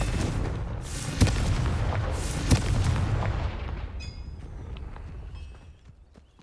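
Confringo blasting spell in Hogwarts Legacy, two sharp booming impacts over a rumbling low roar that fades out, followed by faint chiming game tones near the end.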